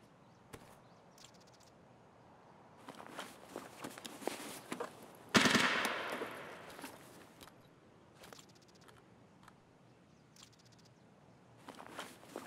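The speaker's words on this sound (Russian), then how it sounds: "Я сказал, сейчас по боту буду стрелять." Gunfire in Escape From Tarkov aimed at a bot: a few short, distant bursts, one louder sharp volley mid-way, with faint footsteps and quiet background between shots.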